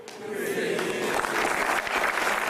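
An audience applauds a stand-up comedian, with dense, sustained clapping that swells and holds steady at close range, and a faint murmur of voices mixed in.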